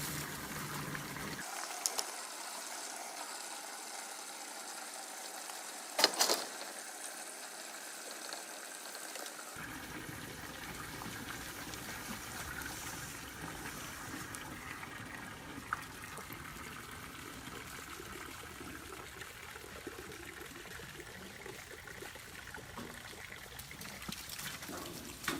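Water trickles steadily down into a pig's trough in a farmyard compost corner, a continuous soft outdoor flow with faint background noise and one brief knock.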